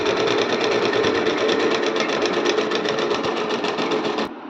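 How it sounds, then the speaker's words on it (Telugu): A sewing machine runs steadily, stitching a fall onto the edge of a saree. Its needle beats in a fast, even rhythm close by and ends abruptly as the machine stops. "ఇక్కడ పాదం ఇట్లా పెట్టి చివరన నీట్గా స్టిచ్ చేసుకోవాలి"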